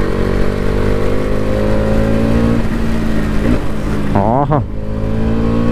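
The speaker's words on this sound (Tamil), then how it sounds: "3rd கியர் மட்டும்தான், ஏன்னா அந்த எக்ஸாஸ்ட் நோட்டுக்காக" A Bajaj Pulsar NS200 motorcycle held in third gear on a rainy monsoon mountain road, its engine droning steadily and loud with rising harmonics, then a quick shift-like dip and wobble near the end; a voice briefly exclaims.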